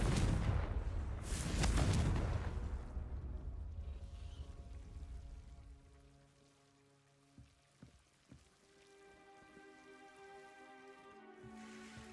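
Confringo blasting spell from Hogwarts Legacy: a loud crackling, rushing burst that swells and fades over several seconds, followed by a quieter tail with sustained tonal hum and a couple of soft knocks.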